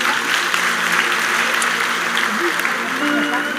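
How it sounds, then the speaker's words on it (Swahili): A church congregation at a live Sunday service applauds steadily and fairly loudly, with a continuous wash of clapping. Voices and some reverberant sound run through it. "Na nataka tupigie Kevo makofi mazuri"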